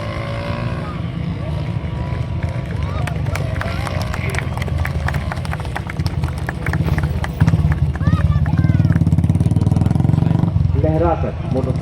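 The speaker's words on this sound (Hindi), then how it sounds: "मोटरसाइकिल पर आराम फरमाते हुए" Army Day parade motorcycle stunt display, with riders performing daredevil tricks on moving motorcycles; a steady loud engine drone runs throughout, over crowd noise and a commentator's voice, growing louder in the final seconds.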